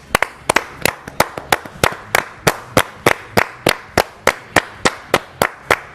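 Slow, rhythmic clapping, about eighteen sharp, evenly spaced claps over several seconds, close and distinct, like a single person or a few people applauding mockingly in a sports radio studio.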